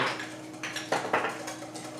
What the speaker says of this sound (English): We're gonna mix this up again.